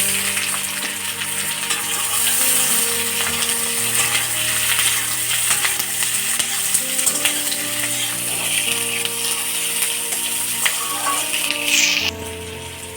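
Capsicum and tomato hit a pan of lightly fried onion for Bengali-style chilli chicken, giving a loud, continuous close sizzle with scattered clinks and scrapes of stirring and no voices.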